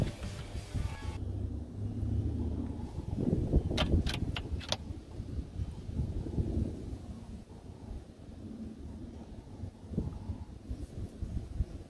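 Steady outdoor wind at an air rifle range, gusting across the microphone as a low continuous rumble with a few brief metallic clicks and rattles partway through, fairly loud throughout.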